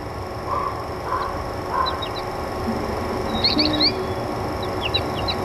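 Bluebirds at a nest box feeder give short chirps and thin rising whistles, scattered and irregular, moderately close over a steady background hiss.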